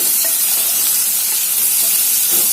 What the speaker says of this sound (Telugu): ఇప్పుడు ఇలానే ఓపెన్గానే దీన్ని మనం వేయించుకోవాలి. నేను స్టవ్ పెద్దగానే పెట్టారండి.